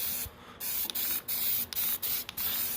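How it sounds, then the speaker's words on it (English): Spray paint hissing from an aerosol can in a series of short bursts, five or so quick sprays separated by brief pauses, close and fairly loud. "this stuff dries super fast, so I can spray these now"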